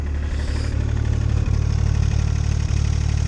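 A Takeuchi machine's engine idles steadily with a noisy muffler, a loud, continuous low rumble with a regular pulsing beat throughout, and no talking.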